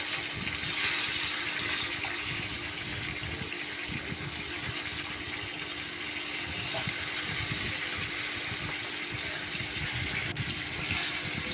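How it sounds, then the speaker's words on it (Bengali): Fish pieces for doi katla fry steadily in hot oil in a pan, giving a continuous, moderately loud hiss and sizzle with a low crackling bed throughout and no talking. "দেখুন খুব সুন্দর ভাজা হচ্ছে তো"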